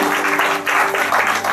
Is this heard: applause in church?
yes